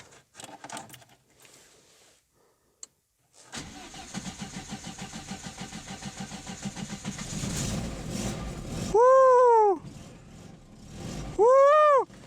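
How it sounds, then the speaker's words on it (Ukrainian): A car engine cranks and catches, running with a rough, steady idle before two loud rising whoops cut in near the end; close and fairly loud. "О, завелася машина, ура!"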